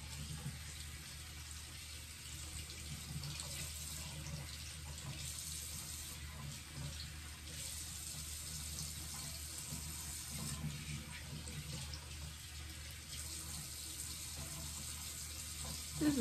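Cold tap water runs steadily in a sink for rinsing a face, a continuous even splashing rush with no talking, holding level throughout.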